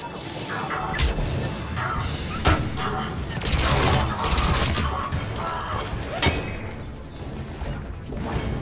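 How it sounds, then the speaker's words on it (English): Bursts of gunfire and crashing impacts from a firefight on Mars in the video game Mass Effect 3, with several sharp shots and rattling volleys spread across a busy, dense battle soundscape. "someone is shooting me over there"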